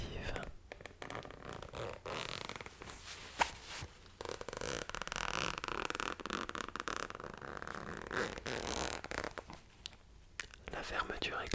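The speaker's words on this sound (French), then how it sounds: "La fermeture éclair emprunte différents chemins pour proposer un son relaxant." Close, continuous zipper sliding back and forth in long and short strokes, with soft crinkly handling noises and brief pauses between pulls.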